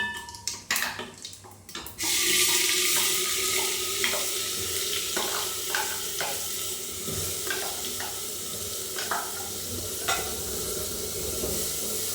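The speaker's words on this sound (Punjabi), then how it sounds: "ਤੇਲ ਆਪਣਾ ਗਰਮ ਹੋ ਗਿਆ ਜੀ ਜੀਰਾ ਪਾ ਕੇ ਆਪਾਂ ਮਸਾਲਾ ਪਾ ਦਿੰਦੇ" Cumin and masala sizzling in hot oil, a few clatters and knocks at first, then a sudden loud hiss that settles into a steady close crackle with scattered stirring taps.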